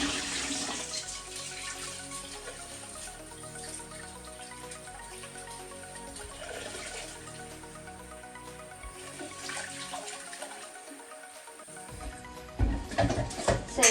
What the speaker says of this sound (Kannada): ಇವಾಗ ನಾನು ಸ್ವಲ್ಪ ವಾಟರ್ನ ಹಾಕಿ ಅಲ್ಲಿ ಕೀಪ್ ಇಟ್ ಸೈಡ್